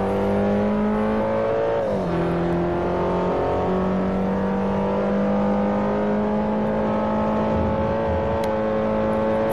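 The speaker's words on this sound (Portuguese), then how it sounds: "Na subida, motor potente. 300 cavalos, 305 se não me engano, turbo." Turbocharged 300 hp car engine in Forza Motorsport 4 drones loud and steady, revving and shifting once early, then pulling hard uphill with a rising whine; no talking.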